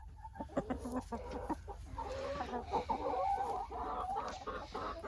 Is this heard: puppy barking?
no